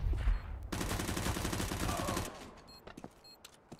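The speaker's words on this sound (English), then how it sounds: "Extra SMG kill for Doctish." SMG fire in Counter-Strike on the Nuke map: a sustained rapid burst of automatic shots lasting over a second, followed by a few scattered quieter shots and game sounds.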